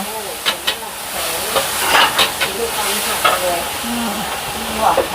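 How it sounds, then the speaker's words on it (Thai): Pad thai with crispy pork cracklings is stir-fried over high heat at a riverside Thai street stall: a steady loud sizzle and hiss with repeated scraping and clanking of a spatula against the pan, under occasional voices. "ผัดไทยไฟแรง"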